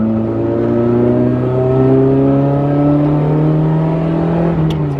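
A 1989 BMW M3 engine heard from inside while driving, a loud steady drone whose pitch rises gradually under load, close and continuous with no talk.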